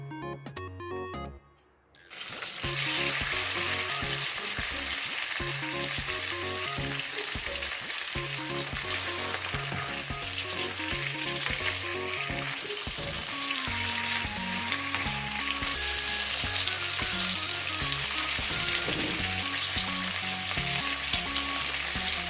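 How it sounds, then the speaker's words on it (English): Paneer cubes fry in melted butter in a pan, a steady, dense sizzle that carries on unbroken after a brief quiet start, with a busy crackle throughout. "What we're going to do now is we're just going to fry the paneer."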